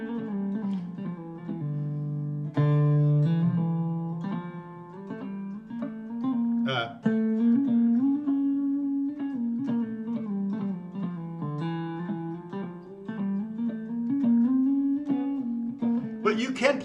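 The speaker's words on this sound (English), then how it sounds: "That's all coming from the hammer on and pull off." Electric guitar played legato, with notes sounded mainly by hammer-ons and pull-offs in a flowing solo over a two-chord vamp; a continuous stream of sustained, connected notes, close and clear with no talking.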